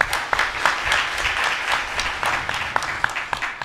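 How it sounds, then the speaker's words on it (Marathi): An audience claps in a hall, a dense, fairly close burst of applause that carries on steadily for a few seconds with a faint voice underneath. "खरं तर आता हे टाळ्या वाजवल्या हे माझं कौतुक आहे"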